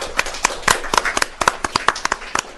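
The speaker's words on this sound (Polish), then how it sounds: "Brawa dla was." A small group applauds young guests in a radio studio, a short burst of scattered, sharp hand claps, close and fairly light, with no talking over it.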